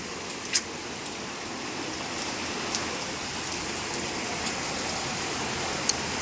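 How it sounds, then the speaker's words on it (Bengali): Heavy rain pouring down outside in a steady, even hiss of dense drops, with a few brief louder drips and no talking. "বাইরে হচ্ছে মুষলধারায় বৃষ্টি"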